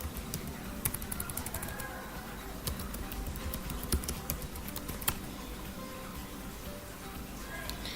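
A password being typed on a computer keyboard, a run of light, quick key clicks in uneven bursts, faint and close, over a low background hum.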